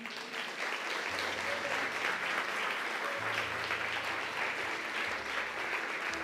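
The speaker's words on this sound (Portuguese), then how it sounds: "Você pode dar uma salva de palmas ao Senhor?" A church congregation applauds in praise during a sermon, a dense, continuous roar of many hands clapping that stays steady throughout, with low hums and murmured voices beneath.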